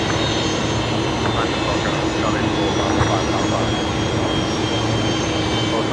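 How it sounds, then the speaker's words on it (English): A Link Airways plane touches down at Brisbane Airport, a loud, steady jet-engine roar filling the scene with a broad continuous rumble and no clear breaks. "one of the Link Airways coming in from Wollongong, and I think they're actually just about to touch down"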